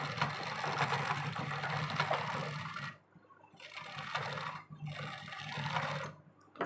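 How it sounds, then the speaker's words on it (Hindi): A sewing machine stitches along the edge of buckram for a blouse, running in bursts of whirring mechanical rattle broken by short pauses, close and moderately loud with no talking. "सिलाई हमें बुकरम के किनारे किनारे लगानी है।"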